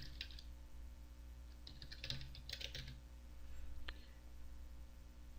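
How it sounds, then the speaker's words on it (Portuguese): Fingers tap a computer keyboard in a few short, quick bursts of soft clicks, followed by a single isolated keystroke, all faint against a low steady room hum. "agora você digita aqui transferência"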